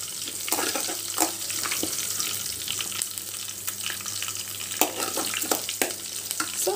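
Green chillies frying in oil in a pan, a constant bright sizzle close by with frequent stirring taps and scrapes.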